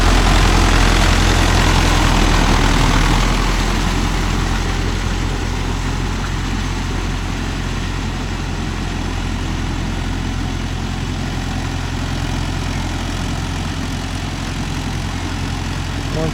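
Mahindra Yuvo Tech Plus 585 DI tractor running with a rotavator in muddy rice paddy, a loud, steady, low diesel drone close by, slightly louder at the start then holding constant.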